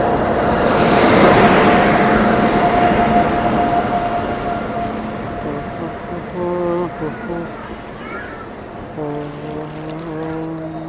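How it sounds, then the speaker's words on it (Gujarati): A train pulls into a station platform at about eight in the morning, a loud rumbling roar that builds and fades, then steady horn-like tones as it slows, with people talking nearby. "પ્લેટફોર્મમાં ટ્રેન આવી ગઈ છે"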